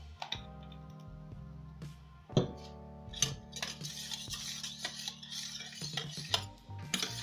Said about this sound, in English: You mix it together, mix it thoroughly. Make sure your aloe vera mixes well first.